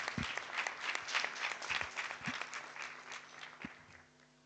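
An audience at the opening of the Forum on Internet Freedom in Africa breaks into dense, crackling applause that builds and holds for several seconds, then fades out toward the end, with a few louder thumps mixed in.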